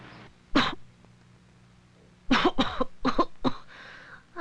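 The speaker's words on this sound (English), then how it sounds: "How come you cough and sneeze so much when you got a cold?" A person coughs once, then after a pause lets out a quick burst of several harsh, close coughs in a row, with no speech.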